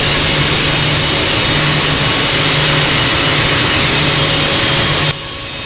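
Boeing 777-200ER jet engines roar on takeoff in the Infinite Flight simulator game, a loud, steady broadband rush with a faint hum beneath, cutting off abruptly to a quieter hiss just before the end.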